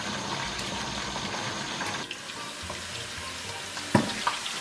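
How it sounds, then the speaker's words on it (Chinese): Pork belly deep-frying in oil in a covered pot over high heat gives a steady, even sizzle throughout, with a few faint clinks near the end. "大火给它炸上5分钟。"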